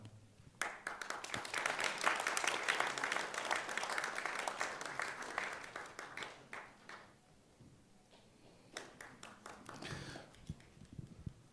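An audience claps at a university graduation and degree ceremony at Busan Presbyterian University, a dense burst of applause that swells, thins out around the middle, then picks up again briefly before fading.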